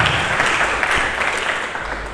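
Church congregation clapping together during a Sunday sermon, a steady dense wash of applause lasting a couple of seconds with no break.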